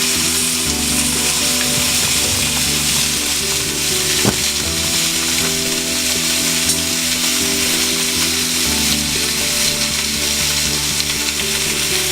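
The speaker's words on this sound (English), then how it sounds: "Just a few minutes on each side, just to get that good sear that people like in their steaks." Picanha steak searing in a hot pan, a loud continuous sizzle with a low steady hum beneath it, close and unbroken, with one brief knock partway through and no talk.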